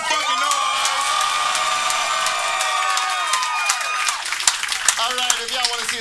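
A comedy club audience at a roast battle cheers, whoops and shouts in a sustained loud roar, with clapping building toward the end as voices fade into scattered applause.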